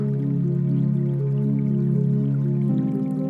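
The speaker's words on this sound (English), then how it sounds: "So we'll pour a little bit here, a little bit in there." Coffee is poured in a steady, continuous stream into cups for a mineral comparison, with a rising tonal fill sound that shifts pitch partway through as the pour moves to another cup.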